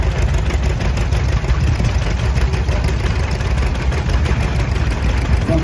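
Antique John Deere tractor, an A or D model, running at a steady idle at an outdoor tractor show, a continuous low chugging engine with a faint rhythmic knock, fairly loud and unaccompanied by talk.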